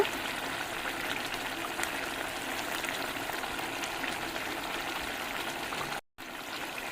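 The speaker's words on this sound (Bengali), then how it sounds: "আর একটু কাঁচা সর্ষের তেল দিয়ে দেব" Raw mustard oil trickles over ilish fish in a mustard-poppy curry. The pour is a steady, soft, continuous stream that cuts out briefly just before the end.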